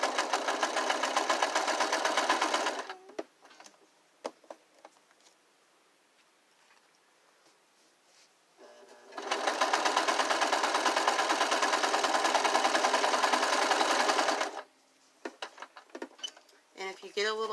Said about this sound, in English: I'm letting the sewing machine pull it through.